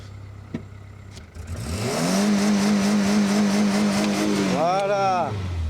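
A Renault Twingo engine is held hard against its rev limiter. It climbs quickly to a loud, steady, buzzing high-rev drone that lasts for seconds, then drops and blips up again, close by.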